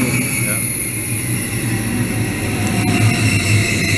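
An ICE high-speed train bound for Munich pulls into a station platform, a loud sustained rumble of wheels and carriages with high whining tones and a brief sharp click partway through, steady and close throughout.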